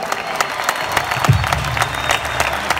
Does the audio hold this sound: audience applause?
yes